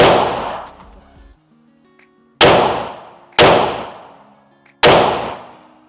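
Loud, sharp gunshots from a Springfield Prodigy pistol ring out at a range, four in all, spaced one to two seconds apart, each with a ringing decay, and no talking between them.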